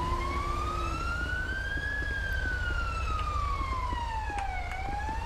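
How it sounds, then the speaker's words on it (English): A police car siren in GTA 5 wails steadily, its pitch sliding slowly up and then back down over a constant low rumble, with a few faint clicks. "No, fucking turn the siren off."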